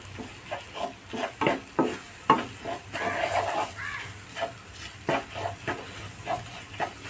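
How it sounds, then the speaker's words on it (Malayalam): Scrambled egg with grated coconut stirred in a pan, the spatula scraping in an uneven rhythm of soft close scrapes over a light sizzle, with no talk. "ഇനി നമുക്ക് മുട്ട നന്നായിട്ടൊന്ന് ചിക്കി കൊടുക്കാം."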